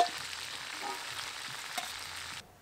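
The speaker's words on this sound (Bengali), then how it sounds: "চিকেনের পিসগুলো দিয়ে এবার ভালো করে ভেজে নেব" Chicken pieces fry in oil in a pan with a faint, steady crackling sizzle that stops abruptly near the end.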